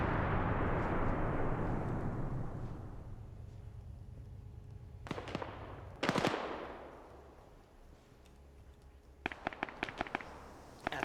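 Distant suppressing gunfire in an Arma PvP match set in Fallujah, with clustered bursts of sharp rifle shots after a rolling rumble, echoing across open ground.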